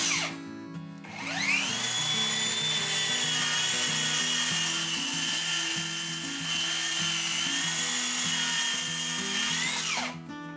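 Power groove cutter cutting across wooden slats, a loud high whining spin that ramps up, holds steady through the cut for several seconds, then winds down, with no voices.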